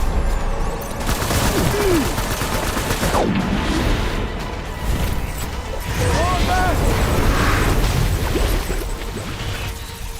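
Dense, rapid bursts of gunfire from a firefight in the video game Death Stranding fill the whole stretch, heavy and continuous, with voices faintly mixed in beneath the shooting.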